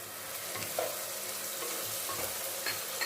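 Ginger garlic paste frying in a pan for chicken curry, a close steady sizzle with a few soft stirring knocks across the short stretch, no voices.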